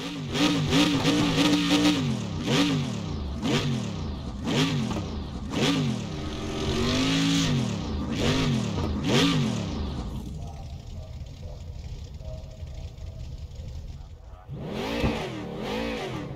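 A battered, worn-out muscle car engine in the iRacing sim revs up and down repeatedly in loud close surges, then settles into a lower droning run before revving again.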